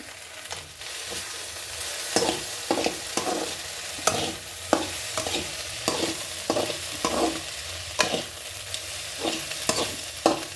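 Okra frying in a pan, with a steady sizzle broken by regular scraping strokes of a spoon stirring it, close and fairly loud, with no voices.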